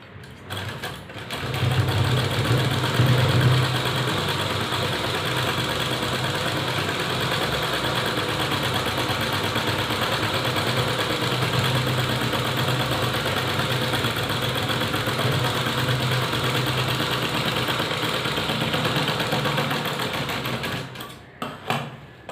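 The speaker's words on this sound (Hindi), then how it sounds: "यहाँ पे हम फिनिशिंग की सिलाई कर दे देंगे।" A sewing machine runs steadily for about twenty seconds, finishing a seam on a dress puff sleeve, with an even, continuous motor hum at close range and no talk.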